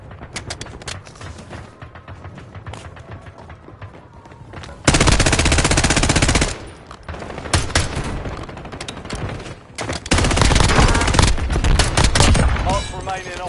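Machine gun fire in Call of Duty Warzone, rapid loud bursts with two long sustained volleys among shorter clattering shots, intense and close.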